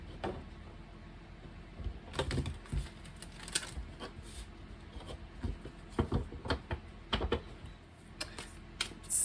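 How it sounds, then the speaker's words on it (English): Tarot cards are shuffled in quick, dry riffling bursts and taps, close and soft, coming in uneven clusters across a quiet room. "and so one more shuffle this way."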